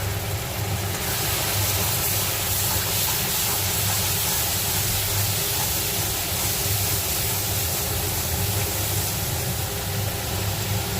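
Grated onion goes into a hot pan for a prawn malai curry, giving a loud, continuous sizzle and hiss over a low steady hum that carries on without a break and with no talking.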